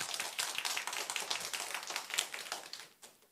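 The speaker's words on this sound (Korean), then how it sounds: "다시 한번 하나님께 박수로 영광 돌립니다." A church congregation applauds during a Sunday morning service, a dense wash of many hands clapping steadily for about three seconds before tapering off, with no talking over it.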